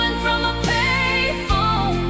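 A classic country song generated with Suno AI plays steadily at full level, with a sung vocal over a full band backing. There is a brief break around the middle before the music resumes.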